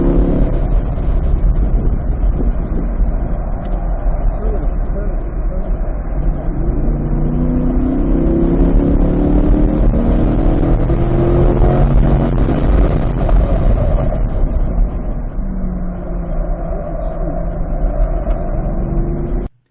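A 2023 Corvette on slick tyres laps a race track during a track day, its engine droning loud and continuous with rising and falling pitch through gear changes, a heavy close rumble with no voices.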